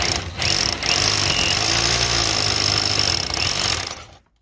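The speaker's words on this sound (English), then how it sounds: "Now we're going to put through a 16mm SDS bit." An SDS hammer drill with a 16mm bit pounds loudly and steadily with a rapid chattering rhythm, pausing briefly at the start, then cutting off at the end.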